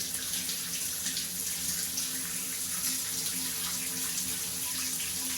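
Water runs steadily from a campsite shower at a bush pub campground, a constant close hiss and splash with no talking over it.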